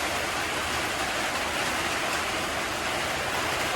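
Heavy rain pours during Typhoon Basyang at night, a loud, unbroken hiss of downpour with no pauses or distinct drops, steady throughout and with no voices.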